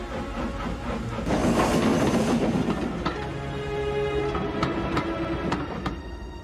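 Steam train rolling along its route in a children's story, a loud rumbling rush of wheels and steam that settles into rhythmic clicks and clanks as it moves along.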